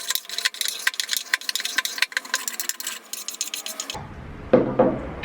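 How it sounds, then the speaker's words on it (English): A spokeshave shaves wood in a rapid series of close, scraping strokes, followed by a brief louder knock and handling sounds near the end. "I love my spoke shave, so I'm gonna keep using my spoke shave."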